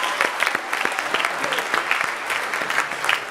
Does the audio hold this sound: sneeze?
no